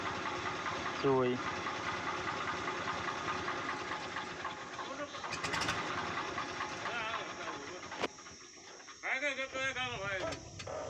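A tractor engine idling steadily on a farm beside a parked JCB, a constant low rumble running through the whole clip, with people talking nearby and a few sharp clanks.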